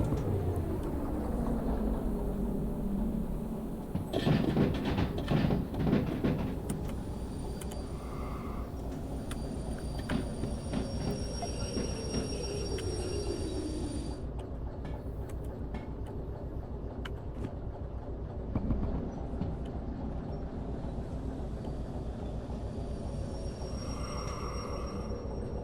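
A train rolling on rails in the video game Derail Valley, a continuous low engine and wheel rumble with a louder clattering burst early on, then steady running with occasional squeals and clicks, no voices.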